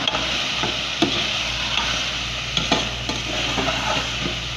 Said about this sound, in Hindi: अब हम इसमें प्याज डालेंगे, शिमला मिर्च डालेंगे,